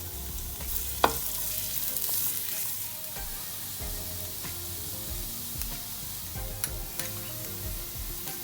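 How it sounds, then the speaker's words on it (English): Chopped green chilli and garlic sauté in a spoonful of hot oil in a frying pan, a continuous close sizzle with a few sharp clicks of stirring. "heat the frying pan and just add only 1 spoon of oil. Then add chopped green chilli and garlic. Then saute until light brown color."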